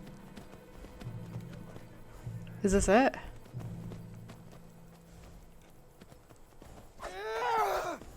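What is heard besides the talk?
horse galloping in the Skyrim video game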